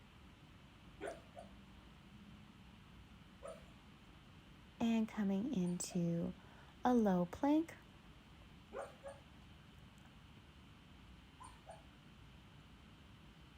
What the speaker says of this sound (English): my dog is sleeping and dreaming in the background